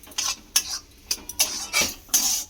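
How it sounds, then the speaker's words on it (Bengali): A spoon stirs and scrapes semolina in a pan over a gas flame, with soft irregular scrapes and light metallic clinks close by. No one speaks. "দিয়ে আমি সুজিটাকে একটু এইভাবে ভালো করে নাড়তে থাকবো।"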